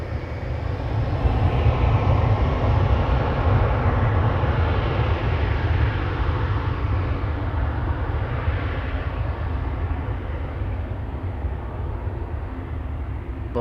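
A 16-year-old Air France Embraer 170 bound for Lyon departs Amsterdam Schiphol. A steady, broad jet engine roar swells and then slowly fades as the aircraft moves away.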